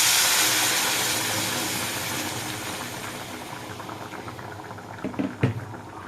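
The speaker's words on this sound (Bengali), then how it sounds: "আর এরপর আমি গরম জল দিয়ে দেবো" Hot water hits sautéed mutton in a pan with a loud, broad hissing roar that slowly fades over several seconds. A few close clanks of a utensil follow near the end.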